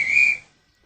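A train guard on a station platform blows one short, shrill whistle blast that lasts under half a second, then cuts to silence.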